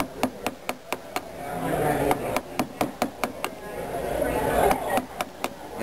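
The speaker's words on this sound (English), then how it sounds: "You're better off just to push the gouge through with a series of taps like that." A woodcarving gouge driven through wood by a steady series of light mallet taps, about sixteen crisp knocks in quick uneven rhythm, close and clear over faint background noise.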